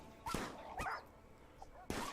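A puppy in the RimWorld video game whimpers and yelps in short, high, faint cries, two or three brief bursts spaced across a couple of seconds.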